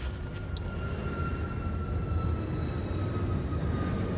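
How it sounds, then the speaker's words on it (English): An aircraft passes overhead, a loud broad roar that fills the whole span steadily, with a few faint clicks near the start and no speech. "I do apologize for the aircrafts passing by"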